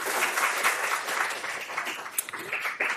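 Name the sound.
audience applause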